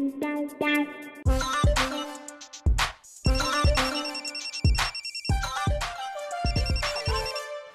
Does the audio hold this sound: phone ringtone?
yes